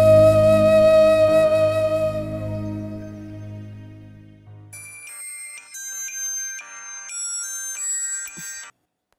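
A phone plays its ringtone for an incoming call, a bright electronic melody of stepped tones that follows fading background music and rings on alone for several seconds before cutting off abruptly.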